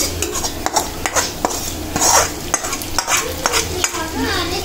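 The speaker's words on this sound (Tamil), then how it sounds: "இப்போ நம்ம அந்த தாளிப்பை இதில் சேர்த்துக்கிடுவோம்" Tempering poured into ridge gourd white gravy in a home kitchen, crackling and sizzling as a spoon scrapes and clinks against the pan while it is stirred, close and steady with no talk.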